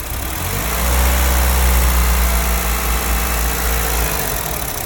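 A Honda car's engine runs loud and close, idling and then revving up slightly before settling into a steady hum, with no voices.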